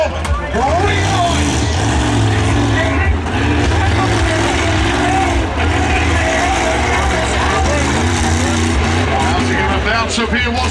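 A monster truck engine rumbles loudly and steadily at a UK monster truck show, a continuous low drone with shifting revs, heard under constant announcer talk and crowd noise.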